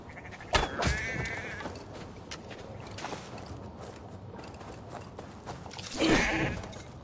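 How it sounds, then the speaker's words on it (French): Sheep bleating in Assassin's Creed Valhalla on PS5: one loud bleat near the start and another toward the end, with soft hoof steps and quiet ambience in between. "des moutons, tiens"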